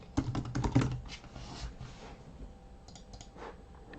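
Quick bursts of keystrokes on a computer keyboard as a file name is typed during a Blender export, several clustered clicks early on, then sparser faint taps over a quiet room hum.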